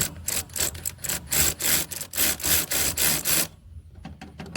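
A socket wrench loosens a bolt on a Snapper mower during a belt change, giving about ten rhythmic, close ratcheting strokes that stop abruptly near the end.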